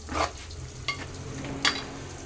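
A spoon stirs vegetable aviyal with coriander and curry leaves in a pan: three short, close scraping strokes spaced under a second apart over a faint sizzle.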